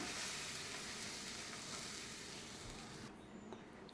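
Milk hits roasted semolina in a hot pan, giving a steady, fairly faint sizzle that carries on evenly and eases slightly near the end, with no voices.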